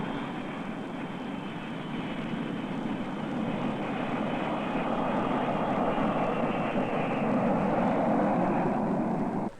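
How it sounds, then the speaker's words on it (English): A steady, loud jet airliner roar with broad rumbling noise as it lands on the runway in San Francisco, holding constant and swelling slightly before cutting off abruptly at the end. "Slowly and carefully, their jet approaches the landing field. And soon the wheels touch the runway"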